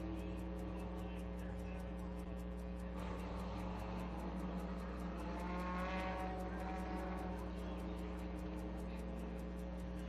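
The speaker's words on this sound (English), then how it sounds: "So Chantel Hyatt appears she's going to keep on going here with that car." Ministock race cars drone steadily on a racetrack, a continuous engine hum that swells slightly midway, heard from a distance under a high rhythmic ticking.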